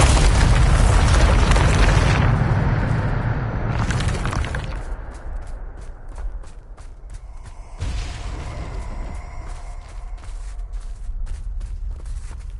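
A Bombarda spell blast in Hogwarts Legacy opens with a heavy, loud booming roar that rumbles and fades over several seconds into crackling debris and scattered pops.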